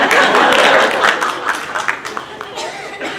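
Clapping from the audience at a Hindi comedy poetry gathering, loud at first and then thinning into scattered claps, with a voice talking over the fading applause.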